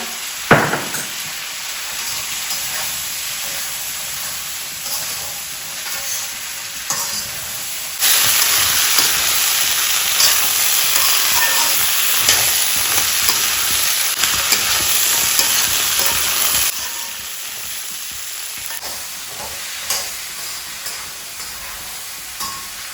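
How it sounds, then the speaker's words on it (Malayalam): Leafy greens stir-fried with salt in a pan give a steady, close sizzling hiss with constant stirring scrapes, growing louder and denser through the middle stretch before easing back; no one speaks. "ഉപ്പിട്ട് കൊടുത്തിട്ട് നമുക്ക് വാട്ടിയെടുക്കാം കേട്ടോ കൈ വിടാണ്ട് ഇളക്കി കൊടുക്കാം"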